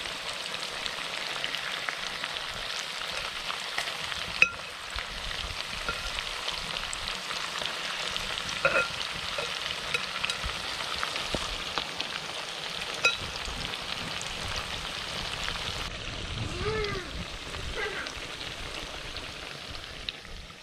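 Chicken pieces fry in hot oil in a pan, a continuous crackling sizzle like steady rain that holds for the whole stretch, with a few faint clinks and no talking.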